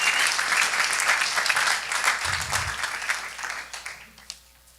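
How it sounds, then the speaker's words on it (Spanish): A church congregation applauds loudly for a few seconds, a dense, even wash of clapping that gradually thins and fades out toward the end. "Dele ese fuerte aplauso. Let's give that strong applause"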